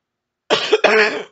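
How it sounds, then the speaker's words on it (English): Two rough, harsh coughs in quick succession, close and loud, after a moment of silence. "This cough is really bad."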